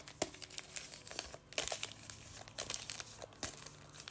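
Pokémon Lost Origin booster packs shuffled by hand, close crinkly foil rustling in quick irregular bursts, quiet and alone.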